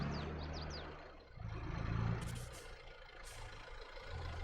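A tractor engine in a farming video game drones along steadily at close range, with bursts of hissing air and a swelling rev partway through.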